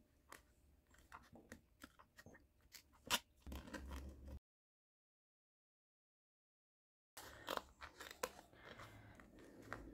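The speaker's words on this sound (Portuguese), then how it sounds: "Aí depois pega a tesoura aqui e vem cortar." Scissors snipping paper to cut out a heart-shaped template, quiet close crisp clicks and crunchy cuts in short bursts, broken by a few seconds of silence.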